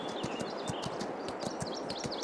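Horse hooves clip-clopping in a steady rhythm as a horse is ridden on a late-November morning in Alma, Missouri, close and clear, with birds chirping in the background.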